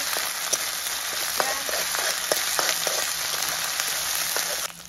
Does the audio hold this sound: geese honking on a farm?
no